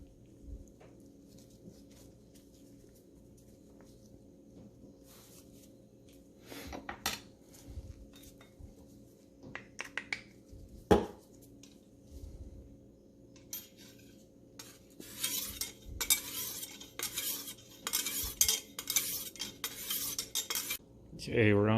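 A large kitchen knife sharpened by hand on a sharpening stone, with scattered scraping strokes that grow busier and more rapid toward the end, close by and with no voices.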